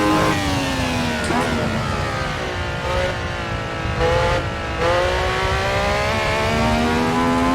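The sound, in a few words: 1976 F1 car engine racing in Assetto Corsa video game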